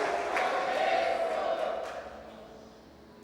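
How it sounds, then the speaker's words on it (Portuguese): A church congregation shouting and cheering during an evening service, a loud sustained crowd roar of voices that slowly fades out, with scattered claps at the edges. "aplauda ao Senhor bem forte nessa noite, dá um brado de júbilo"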